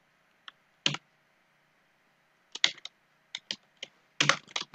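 Someone types on a computer keyboard in short, sparse bursts of close clicks with quiet gaps between them, over a faint background hum.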